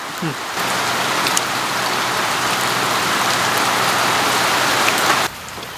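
Steady rain falls in a dense hiss through most of the clip during an outdoor meal of spicy papaya-style bean salad with large white-fleshed field snails. It starts suddenly, holds even and moderately loud, then cuts off near the end.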